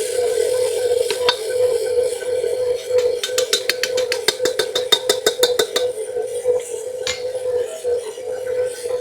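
A stand mixer running as flour is sprinkled into bread dough, a steady motor whine with a fast run of rhythmic clicking knocks in the middle, loud and close.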